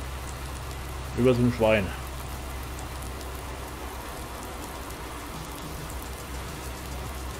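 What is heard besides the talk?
rain in video game Farming Simulator 19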